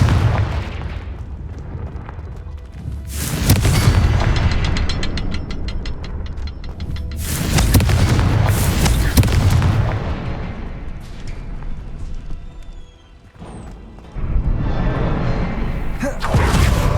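Explosions from the Confringo blasting spell in Hogwarts Legacy, three big booming blasts spaced several seconds apart, each loud and rumbling before it fades out.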